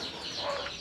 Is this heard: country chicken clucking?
yes